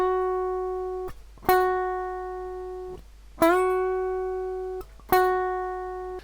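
An electric guitar string is picked and bent up a full whole step, repeated about four times; each note rings clearly, sliding upward in pitch and sustaining before the next attack, alone without voices.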